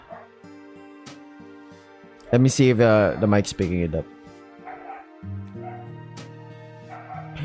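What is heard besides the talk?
neighbor's dog barking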